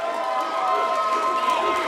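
A wrestling match crowd roars in a steady, dense wash of cheering that carries on throughout, with an announcer talking over it.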